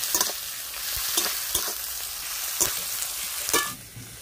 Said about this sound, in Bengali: পেঁয়াজগুলো দিয়ে দিচ্ছি ফোড়নে।